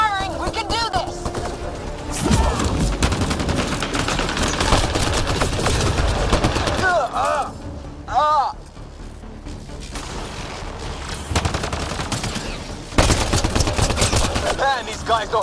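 Sustained automatic gunfire and bursts of shots fill a Mass Effect Andromeda firefight, loud and dense with brief lulls, while voices shout over the combat.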